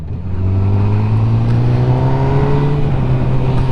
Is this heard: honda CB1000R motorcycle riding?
yes